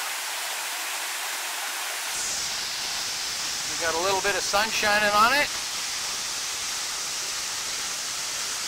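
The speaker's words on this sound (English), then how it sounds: "we've made it to the first waterfall" A waterfall on the Ka'au Crater hike pours into a pool, a steady loud rushing hiss that fills the whole clip, with someone speaking briefly over it midway.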